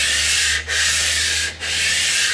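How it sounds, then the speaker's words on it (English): Backed 150 grit sandpaper rubs by hand across the steel of a Colt Lightning gun in a steady, loud stroking hiss, with two brief pauses where the stroke reverses direction. "we're going to start off with 150 grit sandpaper, of course backed, and just see what we've got"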